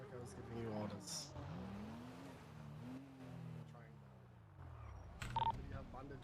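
A car in a video game revving and pulling away, its engine pitch rising and falling through gear changes, with speech over it and a burst of louder noise near the end.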